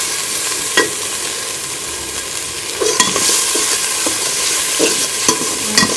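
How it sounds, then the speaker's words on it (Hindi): Whole coriander seeds and cumin sizzle in hot oil for a Pakistani matar pulao, a steady close frying hiss broken by scattered crackles and a few sharp pops, with no talk. "इसी के साथ मैं ये साबुत धनिया और जीरा शामिल कर लूँगी"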